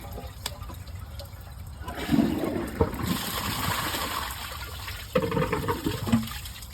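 A Glacier Bay high-efficiency dual flush toilet flushes with a sudden rushing surge of water, then gurgling and swirling drainage, and a second burst of water rushes in near the end.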